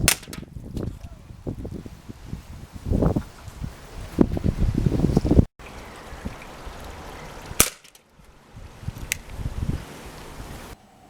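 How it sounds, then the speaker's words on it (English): An ASG Dan Wesson airsoft pistol fires at two cans outdoors, giving several sharp snapping shots spaced irregularly, with wind noise rumbling across the microphone between them. "we'd line these 2 cans up, let's see what the Dan Wesson can do to them"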